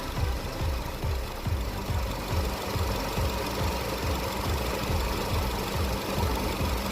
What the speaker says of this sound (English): we start the compressor